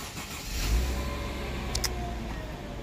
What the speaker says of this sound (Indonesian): Oke, kita injak rem dan kita starter.